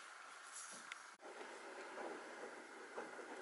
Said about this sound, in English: Excuse the noise of the washing machine in the background.